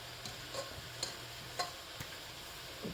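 Butter melts in a pan while a utensil stirs it, giving a faint sizzle under a series of light, evenly spaced clicks and scrapes against the pan, with no voices.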